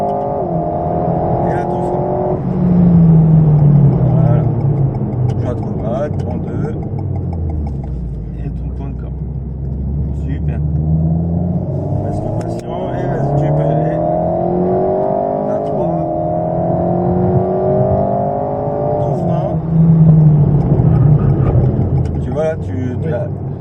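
A car under acceleration on the Dreux racing circuit in France, its engine note rising in repeated sweeps through the gears, loud and close, with an instructor talking over it throughout.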